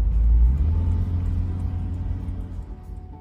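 Low, steady rumble of a small microcar engine overtaking another, passing close by, the drone gradually easing off as it moves on.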